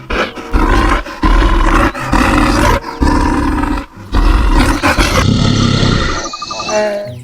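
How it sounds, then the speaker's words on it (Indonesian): A bear roars loud and close in repeated bursts with short gaps between them, followed by a softer stretch near the end. "Ini beruang."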